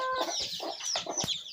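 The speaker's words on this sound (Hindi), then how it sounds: "ये मेरे चैंपियन मुर्गे दे न" A champion rooster clucks close up in quick, choppy bursts, a series of sharp nasal calls with short pauses between them, alone and fairly loud.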